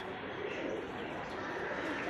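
A green-eyed male pigeon of an uncommon type, kept at a home in Rajshahi, coos in low, continuous murmurs, heard close up against steady background noise.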